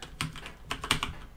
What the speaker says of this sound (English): we're going to type in a flag command